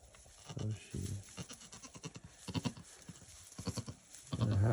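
Goats in a barn bleat and shuffle close by, with hoof clatter and rustling, while a person speaks over them.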